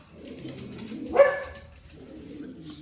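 Dogs give one short bark near the middle, moderately close, over a low murmuring indoor background.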